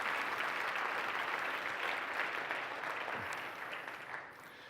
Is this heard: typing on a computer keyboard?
no